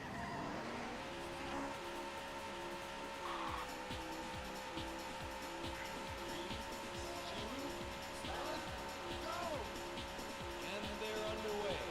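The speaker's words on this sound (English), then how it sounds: "Gentlemen, start your engines." Video game race cars from Daytona USA revving at the start of a race, a dense continuous engine roar with tire squeal on top, loud and steady throughout, with a voice talking underneath.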